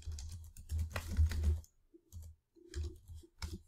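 Computer keyboard typing a search term into a website's search field, in short bursts of rapid clicking keystrokes separated by brief pauses, close and fairly quiet, with no talking.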